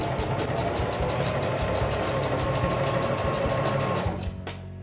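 A Singer Fashion sewing machine stitches a rolled hem in fabric, a loud, fast, steady mechanical whirr and needle clatter that winds down at the end.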